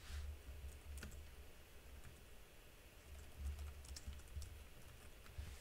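Faint, steady keyboard typing, a run of soft clicks and taps that continues through the whole stretch with small bursts, no voice over it.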